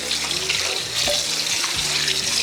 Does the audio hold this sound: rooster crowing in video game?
no